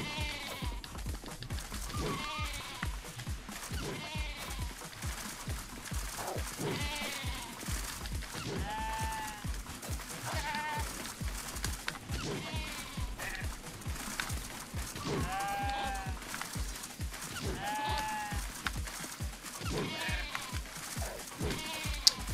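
Sheep bleat repeatedly in the video game Tokyo Jungle, a string of wavering calls every couple of seconds over a steady bed of game noise and soft rhythmic thuds.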